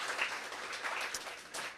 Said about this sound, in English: Let's give another round of applause for Vicky Law.